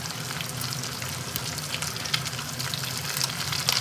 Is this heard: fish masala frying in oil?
yes